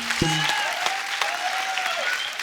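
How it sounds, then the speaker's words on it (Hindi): A studio audience applauds at a comedy talk show, a dense, steady wash of clapping throughout, with a few brief voices and tones over it. "जोरदार तालियां मुझे।"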